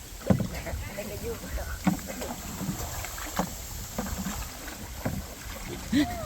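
Children paddle a rowboat on water at a countryside garden home, with irregular paddle splashes and knocks close by under excited voices and light wind buffeting.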